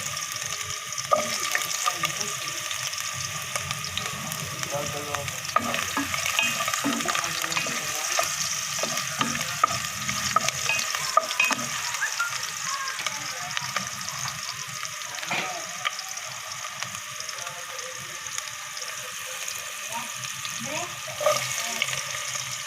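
Ginger sautéing in a pan of oil, a steady frying hiss with frequent spatula scrapes and knocks against the pan, running unbroken for over twenty seconds with no clear talk.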